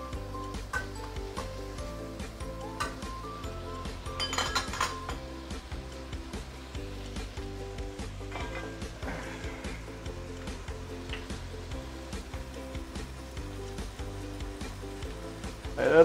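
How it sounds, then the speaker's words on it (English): Double cooked pork sizzles in a wok as black vinegar is added, a low steady frying hiss throughout with occasional clinks of utensil on metal and a louder sizzle burst near the end. "You can also add a little bit of black vinegar now"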